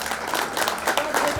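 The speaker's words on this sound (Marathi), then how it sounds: "टाळ्या वाजवा" Audience applause for Yashoda Pande as she receives a memento of honour at a Bhiwandi bus depot staff gathering; steady moderate clapping from a seated crowd throughout.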